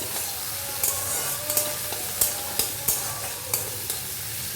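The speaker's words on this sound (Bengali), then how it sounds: "এবার একে একে সব মশলাগুলো আমি এর মধ্যে দিয়ে দিলাম।" Spices go into tomato frying in a pan for a meatless Bengali potato dum, with a steady sizzle and repeated sharp scraping strokes of stirring at a fairly even rhythm, with no voices.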